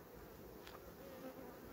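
Honeybees buzz at an opened hive of a strong colony with a red-marked queen, a dense, continuous hum filling the scene at low level with no speech.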